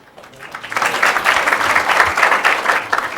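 An audience at a children's Sunday satsang breaks into applause; the clapping swells over the first second, then holds steady and loud for a couple more seconds.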